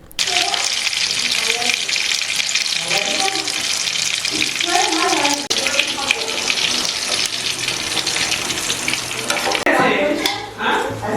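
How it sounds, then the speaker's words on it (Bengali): Fish fry pieces frying in oil, a loud continuous crackling sizzle with stirring scrapes and a brief run of water toward the end, voices talking intermittently over it. "ওদিকে ফিশ ফ্রাই কিন্তু এখনও ভাজা চলছে"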